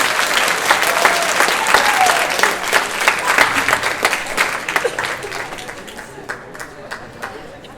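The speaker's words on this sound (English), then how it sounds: "Everybody give them a round of applause" A crowd breaks into loud, steady applause that gradually fades into scattered individual claps, with voices faintly audible underneath.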